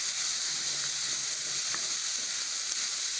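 Vegetables for a vegetable biryani sautéing in a pan, a continuous close, bright sizzle with faint scraping under it and no talk.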